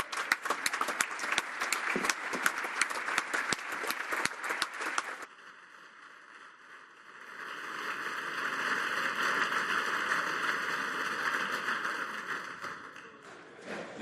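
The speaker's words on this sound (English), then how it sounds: "Let's just give them a huge round of applause" Members in the House of Commons chamber applaud with crisp, dense clapping for about five seconds. The clapping stops abruptly and is followed by a quieter stretch of steady room tone with a faint hum.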